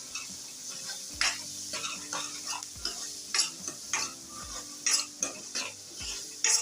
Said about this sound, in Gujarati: આપણે ડુંગળી અને આદુ લસણની પેસ્ટ આ રીતના સરસ રીતના મિક્સ કરી દઈશું